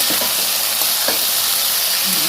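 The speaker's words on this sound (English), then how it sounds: "The head and all that, you should fry it." A fish head fries in hot oil, giving a steady, loud sizzle with faint stirring clinks throughout, close by and with no talking.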